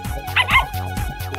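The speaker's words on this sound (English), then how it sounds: "Oh, what an energetic pooch." A puppy in an animated movie gives a quick series of short, energetic yips and barks, close and clear, with no talking over it.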